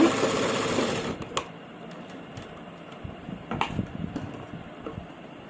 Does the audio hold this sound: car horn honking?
no